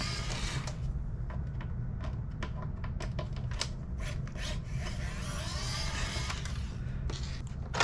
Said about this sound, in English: switch back to our Y1 bit, not the tri-wing bit, of course, and get these longer screws out of the way